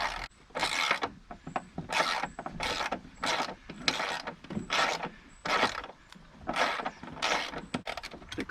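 Ratchet wrench backing bolts out of a 20-year-old engine on a rotted deck: repeated close bursts of rapid ratcheting clicks, about a dozen strokes separated by short pauses.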